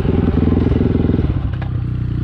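A dirt bike idles and putters loudly up close on a trail. A rapid, pulsing engine thrum runs with some clattering, then drops to a lower, steadier idle partway through.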